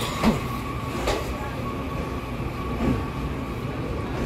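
An EMU train departing Ruifang station in Taiwan gives a loud, steady rail rumble close by, broken by a few sharp clicks and squeals from the wheels over a few seconds.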